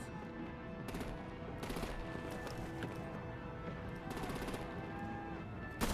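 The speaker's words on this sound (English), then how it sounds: "Bring out the artillery and disable their vehicles!" Artillery and rapid gunfire in the Batman: The Enemy Within video game, a dense steady clatter of machine-gun bursts over a continuous rumbling battle backdrop, with no clear talking.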